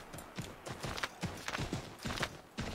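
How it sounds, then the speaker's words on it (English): Rhythmic hoofbeats of a horse in Assassin's Creed 3 clop along in a quick, steady gallop pattern, fairly close and even, with no voices. "I'm supposed to be spurring the horse."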